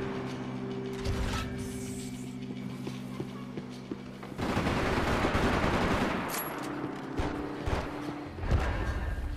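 Bursts of automatic gunfire and mechanical weapon clatter from a multiplayer shooter video game, loud and dense, with a heavier sustained barrage in the middle and sharp single shots near the end.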